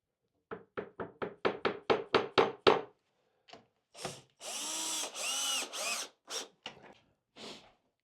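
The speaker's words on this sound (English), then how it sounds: "Fine adjustment meaning I hit it with a hammer." Hammer blows knocking a wooden jig into position on plywood, a run of about nine sharp, close taps speeding up, followed by a pause and then longer scraping and rubbing sounds.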